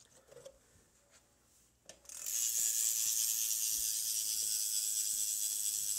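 A BMX bike's rear hub ratchet clicks in a fast, steady buzz after a couple of faint knocks, running continuously and fairly loud at close range until the end.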